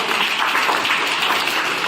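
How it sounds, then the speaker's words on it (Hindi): Classroom of students clapping for a boy named Raunak, a brief, even burst of applause filling the room from start to end. "एक बार तालियां बजाएं बेटा रौनक के लिए।"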